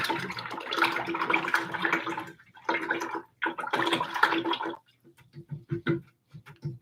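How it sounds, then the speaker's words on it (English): Paint brush being rinsed in a container of water during mural painting, bursts of sloshing and swishing water in several uneven pulses with short gaps, then fainter intermittent splashes and drips. "I'm going to rinse out that brush."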